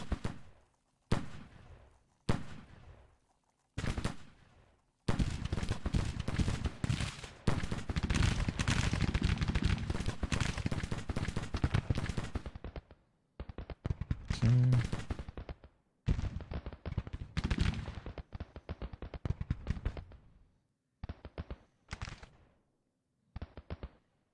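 Infantry musket fire in a Grand Tactician Civil War battle: scattered single shots at first, swelling into a long sustained volley of crackling rifle fire, then breaking back into irregular separate shots.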